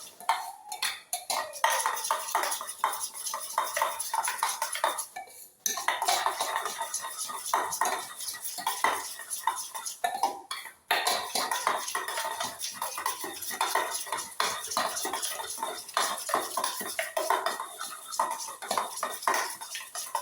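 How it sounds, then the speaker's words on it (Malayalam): Eggs with onion, green chili and curry leaves are beaten in a bowl before frying, heard as rapid, rhythmic metal clinks and taps against the bowl with brief pauses, close and alone. "മുട്ട പൊരിക്കാൻ വേണ്ടിയിട്ട് മുട്ട അരിച്ചെടുക്കുകയാണ്"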